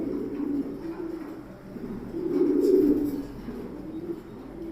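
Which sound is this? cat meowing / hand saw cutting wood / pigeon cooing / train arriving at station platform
pigeon cooing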